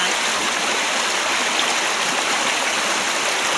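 Floodwater after heavy rain rushes through a neighbourhood like a full river, a loud, steady torrent of flowing water roaring without pause from start to finish.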